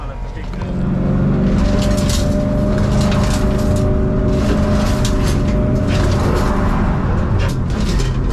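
A Ford Mustang drift car drives on a track, its loud engine roaring steadily close by with bursts of tire and exhaust noise, while a person talks over it.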